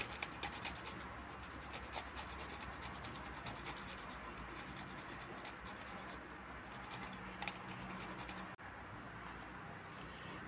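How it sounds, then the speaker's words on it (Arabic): Garlic cloves being grated: a continuous rough scraping and rasping in short repeated strokes, close and fairly quiet. "وغادي نحك واحد جوج ريوص ديال الثومه"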